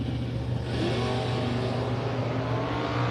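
A Camaro drag race car accelerates down the strip with a loud, sustained engine roar heard from a distance, a steady broadband rumble that holds for the whole moment.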